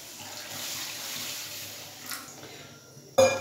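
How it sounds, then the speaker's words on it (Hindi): Tap water runs steadily into a pot as plum sharbat is prepared in a home kitchen, a soft continuous pour ending with a brief louder splash. "तो पानी ऐड कर दूंगी मैं,"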